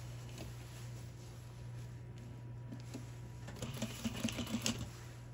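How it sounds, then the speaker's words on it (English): A sewing machine stitches along a denim zipper, with a short burst of rapid mechanical rattling near the end over a faint low room hum. The sound is quiet overall, and no one talks. "And then we're gonna go back to the waist and stitch it."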